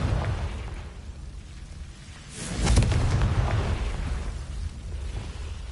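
A Confringo blasting spell detonates in a Harry Potter video game: one deep booming explosion with a sharp crackling burst near the middle, rumbling out over the following seconds.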